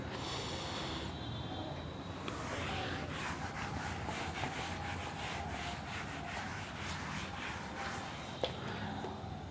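Writing being rubbed off a classroom board during a maths lesson, with soft, repeated scrubbing strokes, close and fairly quiet, ending with a small knock.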